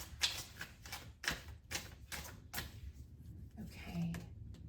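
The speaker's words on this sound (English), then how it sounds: "One more shuffle." A deck of tarot cards is shuffled at close range, a series of crisp riffling bursts in an uneven rhythm that fade into quieter handling near the end.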